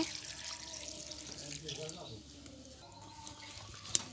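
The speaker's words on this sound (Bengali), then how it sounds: "এখন আমি পানি দিয়ে দিচ্ছি" Water runs and splashes steadily into a pot of river fish curry at a moderate level, ending with a brief sharp clink.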